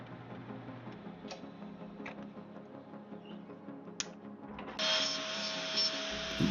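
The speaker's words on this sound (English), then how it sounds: "we get to angle grinder action" An angle grinder cutting a metal shim for a lathe tailstock digital readout bursts in near the end as a loud, steady, high whine, after quieter workshop clatter and a few sharp clicks.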